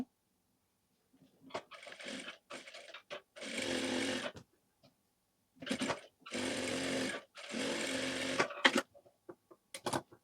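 Sewing machine stitching the shoulder seam of a simple blouse, running in several bursts of steady whirring separated by short pauses, close and fairly loud with no talk.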